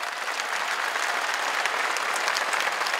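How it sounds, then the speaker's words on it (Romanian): Large theatre audience at a stand-up comedy show applauds loudly and steadily, a dense wash of many hands clapping without pause for the whole stretch. "Ia să mai aud încă unul de aplauze, vă rog frumos, și mai tare!"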